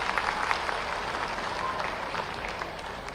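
Hall audience at an environment conference at Ravindra Bhavan, Bhopal, applauding to welcome Chief Minister Dr. Mohan Yadav, a steady, even wash of clapping from many hands, moderately loud throughout.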